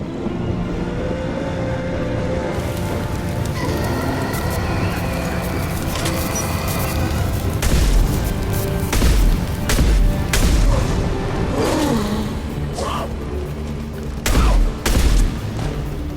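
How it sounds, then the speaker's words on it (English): Heavy gunfire and booming blasts from a Mass Effect 2 battle, a dense, continuous barrage with sharper bursts and thuds standing out toward the end. "Taking heavy fire"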